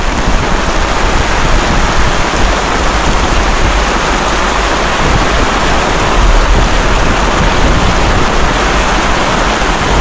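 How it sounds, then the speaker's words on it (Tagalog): Heavy rain pours down in a dense, continuous hiss, loud and steady with no pauses and no voices. "lakas ang ulan"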